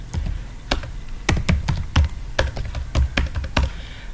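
Fingers type on a laptop keyboard up close, producing a brisk, uneven run of sharp key clicks and heavier thumps, with short pauses between bursts and no voices.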